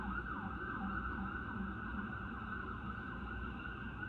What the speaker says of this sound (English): I'm sorry about the sirens. I live near a hospital.